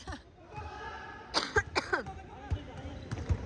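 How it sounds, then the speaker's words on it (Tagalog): A few sharp coughs break through a noisy gym during a tournament, with bouncing and shuffling around them and people talking nearby. "Inuubo na ako."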